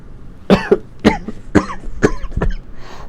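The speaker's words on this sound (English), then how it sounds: "I don't know why I keep coughing" A person coughs five times in a row, sharp and close, with short pauses between each cough and a faint breath at the end.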